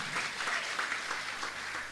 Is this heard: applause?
yes